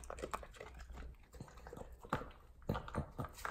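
A dog chews a meaty roll treat, with faint, irregular wet crunching and biting sounds close by in a quiet room.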